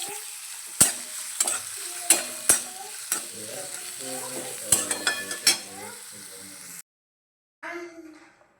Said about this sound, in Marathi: तेलामध्ये छान आपल्या शेवळ्या भाजून घ्यायच्या आहेत